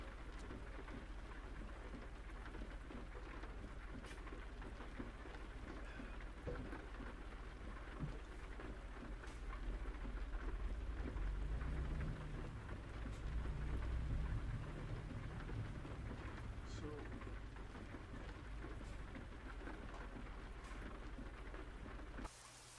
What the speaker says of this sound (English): we got daylight, but it's now raining